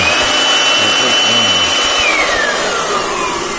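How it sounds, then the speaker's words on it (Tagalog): A 2-in-1 portable cordless air blower/vacuum cleaner runs loud and steady with a high whining motor tone that drops in pitch partway through, over a broad rushing airflow. "So yan po ang lakas ng ating portable blower."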